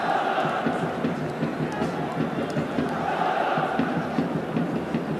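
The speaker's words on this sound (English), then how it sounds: "Crowd making their own entertainment at the moment" Football stadium crowd during an Al Nassr versus Al Riyadh match, a dense, steady roar of many voices with rhythmic chant-like swells, continuous and fairly loud throughout, with no clear talk on top.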